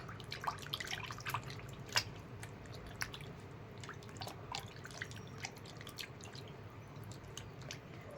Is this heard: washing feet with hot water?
yes